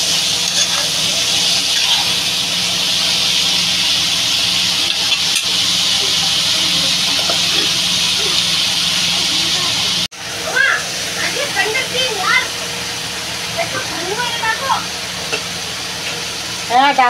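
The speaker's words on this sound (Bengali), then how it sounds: "আর এবার একটু ভেজে নেবো। এটা একটু কষাবো ভালো করে" Shrimp and pui greens curry stir-frying in a Bengali village kitchen, a loud steady sizzle close up that drops abruptly partway through, followed by lighter crackles and stirring scrapes.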